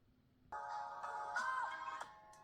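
A ringtone plays through the small speakers of an ALLDOCUBE iPlay 60 mini Pro 8.4-inch LTE tablet, a faint, thin melodic chime starting abruptly and running on for a couple of seconds without talking.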